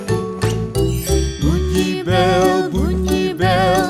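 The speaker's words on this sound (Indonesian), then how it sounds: "Bunyi bel terus berbunyi." Bright jingling bells ring along with a bouncy melody and steady beat, repeating in short phrases throughout.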